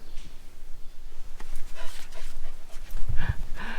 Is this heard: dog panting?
yes